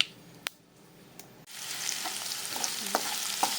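Chopped onions and green chili frying in a pan, first a few faint clicks, then a sizzle that swells in and settles into a steady close crackle, with occasional light stirring taps.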